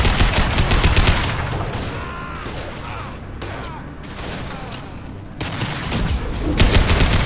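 Sustained gunfire in the video game Mass Effect 2, loud bursts of rapid shots at the start and end with a quieter, rumbling stretch of combat noise between them.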